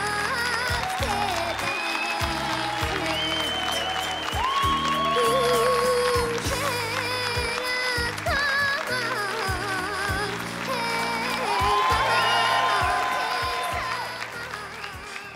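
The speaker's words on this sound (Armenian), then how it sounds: "Բարձր ծափարենք, թող որ ծափարությունները չդադարեն" A studio audience at an Armenian TV talent show applauds with dense, sustained clapping and cheering, mixed with music, that swells and continues for the whole stretch.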